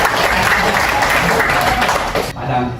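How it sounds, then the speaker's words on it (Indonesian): Dense audience clapping fills an Islamic religious education class session, loud and continuous for a couple of seconds before cutting off abruptly, with a voice faintly beginning afterward. "Kasih tepuk tangan untuk jawab."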